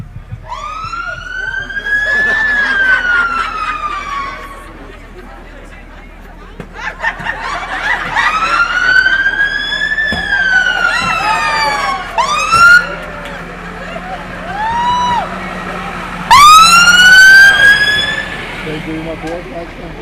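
Fire engine siren wailing as the truck arrives at a staged road-accident rescue drill during a tattoo event in Dumfries, rising and falling in repeated sweeps, loud and fairly near, with voices and crowd noise underneath.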